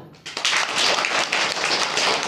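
Schoolchildren in an Indian classroom break into a burst of clapping, many hands striking together in a dense, fairly loud patter that starts abruptly and carries on steadily.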